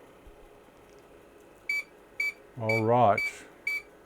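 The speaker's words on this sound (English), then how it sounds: "I'll stop the beeps." An IBM PC 5150 sounds a series of short, evenly spaced electronic beeps while reading a diskette, five sharp chirps over faint hum, with someone speaking briefly between them.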